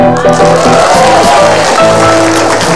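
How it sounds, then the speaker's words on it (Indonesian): A studio audience at an Indonesian live talk show claps loudly and continuously, dense applause mixed with steady backing music throughout. "Tepuk tangan dulu buat Anu"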